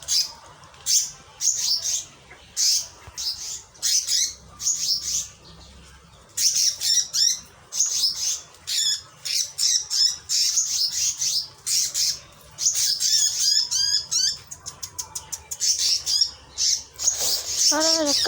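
An injured bird with damaged wings squawks and chirps in repeated harsh bursts and rapid trills, close and fairly loud, with pauses between calls and people talking softly nearby.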